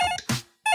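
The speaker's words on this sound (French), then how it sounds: "Oh, on m'appelle. Je ferais mieux de répondre." A telephone rings in two short, bright bursts, loud and close, separated by a brief breathy noise and a moment of silence.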